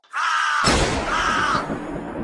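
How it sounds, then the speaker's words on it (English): A wounded bird in a forest clearing gives loud, harsh, drawn-out caws and screeches in an audio drama, with a shrill cry followed by a rougher, noisier screech. "Around the clearing, everyone heard the bird's pained caws and screeches."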